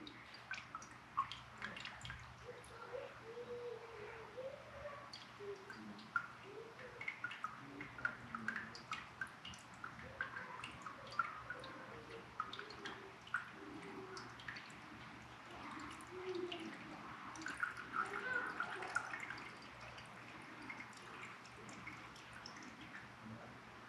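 Diesel fuel drains from the fuel filter of a VW Golf MK7 TDI, a thin trickling and dripping of liquid that stays close and fairly quiet throughout.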